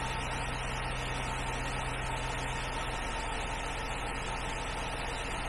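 A truck engine idles in a steady, low, continuous drone, fairly faint and unbroken, with no voices over it.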